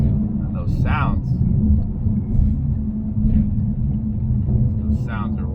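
A 2019 Mercedes E63s carries its occupants along with a deep, steady engine rumble heard from inside the cabin. The rumble fills the whole stretch while people talk over it.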